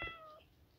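A single short cat meow from Minecraft, clear and faint, lasting under a second.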